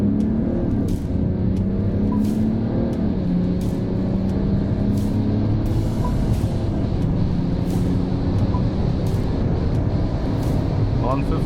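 A 2025 Mercedes GLS 450d AMG Line diesel SUV accelerates at full throttle from inside the cabin, a steady low engine drone rising gradually in pitch over continuous road noise.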